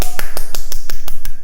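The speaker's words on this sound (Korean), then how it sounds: "우리 찬양받게 합당하신 하나님께 영광의 박수를 드리겠습니다." Clapping at a children's Sunday worship service at a church in Chiang Mai: about nine sharp, evenly spaced claps in a quick steady rhythm, loud and close, with nothing else over them.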